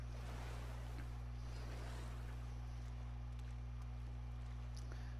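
Ocean waves wash steadily in a survival video game, a continuous broad surf hiss with wind-like rush and a low constant hum underneath, with no talking.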